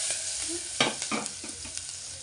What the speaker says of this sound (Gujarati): પછી એમાં ડુંગળી નાખી દઈશું. અને જરા હલાવી લેશું.